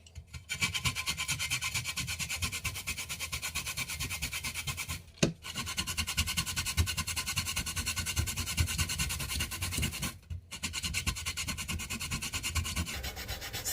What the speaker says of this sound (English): that's the side I'll be using to grate my cassava. So let's move on to the grating process.